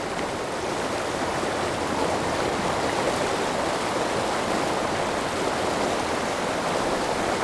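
Shallow river pocketwater rushing steadily past a submerged boulder amid white water, a dense, even broadband wash that stays loud and unbroken throughout with no voices.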